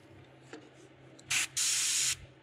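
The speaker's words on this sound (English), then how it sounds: "And then you got to spray a little bit." Metallic paint hisses onto a fishing lure in two close spray bursts, a short one followed by a longer, steady one, against a quiet room.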